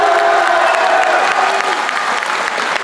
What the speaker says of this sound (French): Tonnerre d'applaudissements pour lui, s'il vous plaît.